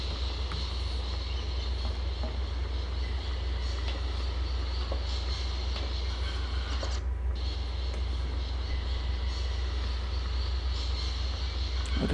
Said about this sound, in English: Well, this is just the train.